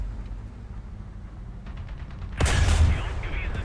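Gunfire in the War Thunder tank game: a low engine rumble gives way to one sudden, loud cannon blast midway that rings out briefly before fading back to the rumble.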